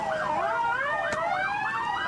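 An ambulance siren in Los Angeles wails loudly and steadily, its pitch sweeping up and down in a continuous cycle, with one brief sharp click partway through.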